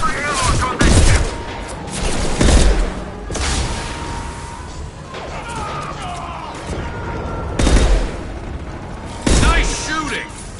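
Video game gunfire comes in loud bursts of shots and booms at irregular intervals, with rumbling effects and ambient sound between them.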